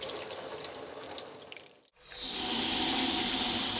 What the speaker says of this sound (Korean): 졸졸졸 나오는 수돗물로 주민들의 속은 답답하기만 하고